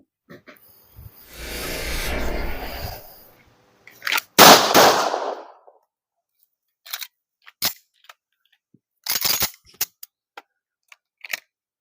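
Sharp, loud cracks ring out in a few separate bursts, including a sustained rushing blast, followed by scattered quieter clicks and pops with silence between.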